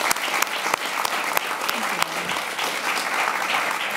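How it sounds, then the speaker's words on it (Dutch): Warm audience applause welcoming a guest to a panel discussion on the transition of the North Sea, steady dense clapping filling the room for several seconds with a few sharper claps standing out and no talk. "Geef hem ook een warm applaus"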